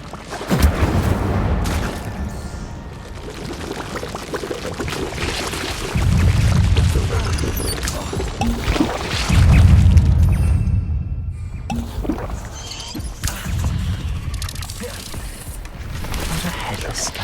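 The Incendio fire spell is cast in Hogwarts Legacy, giving repeated booming, whooshing bursts of flame among busy game sounds, with a voice speaking at times.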